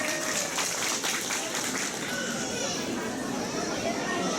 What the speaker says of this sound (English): Please give a big round of applause for these winners